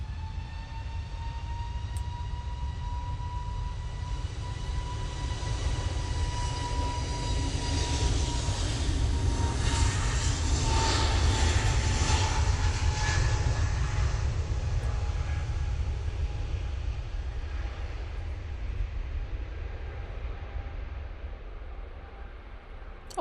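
Airliner taking off from Manchester Airport bound for Lisbon, a broad rising roar with a steady whining tone, swelling to a peak midway and slowly easing off, heard from a distance with no talk.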